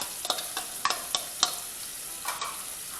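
Garlic cloves and onion fry in a hot pan, a steady soft sizzle broken by several sharp stirring clicks and scrapes, close and moderately quiet, with no talking.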